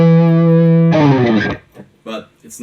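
A distorted electric guitar plays with heavy effects, first as a sustained ringing tone and then as a burst of fast tapped notes, before dropping to near silence with a few faint sounds.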